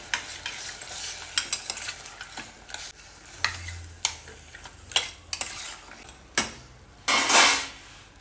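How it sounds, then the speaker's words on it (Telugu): A spoon scrapes and clanks against a pan in repeated irregular strokes while mutton sizzles softly underneath with fenugreek powder added, ending with a louder burst of frying. "ఇది మటన్ వేగుతుంది దీంట్లో ఒక్క స్పూన్ మెంతిపిండి వేద్దాం మంచిగా కలుపుకోవాలి"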